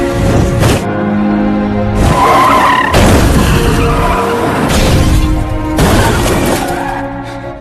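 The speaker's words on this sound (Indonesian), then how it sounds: "membuat Jonghwa tak melihat truk yang datang dari arah yang berlawanan, sehingga menabraknya, sampai membuat mobil Jonghwa terpental dan menabrak mobil yang lain, hingga mobilnya terbalik." A car skids hard and slams into an oncoming truck, then strikes another car and overturns; loud, sustained screeching and crunching impacts come in several surges over about seven seconds, with no talk.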